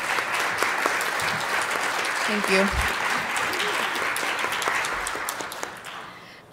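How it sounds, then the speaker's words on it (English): A conference audience applauds a panel, a dense, sustained clapping from a room full of people that tapers off at the end, with a brief spoken word over it. "let's give our panel a round of applause"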